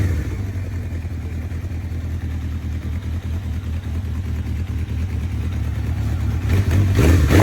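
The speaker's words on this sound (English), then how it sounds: "the bike still delivers that signature Honda growl" A 1980s Honda Nighthawk motorcycle engine idles with a steady low rumble, then revs up louder near the end.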